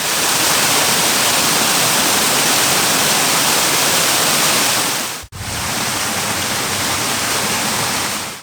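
Waterfall in Ashdown Forest in East Sussex's High Weald, a loud, constant broadband rush of falling water recorded close, with a brief dropout partway through and no voices.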